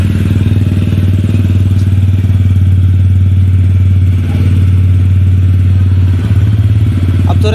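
A 2023 TVS Ronin 225 BS6 motorcycle idling steadily without throttle, a close, loud, even low thrum with a faint mechanical clatter and a slight dip near the end.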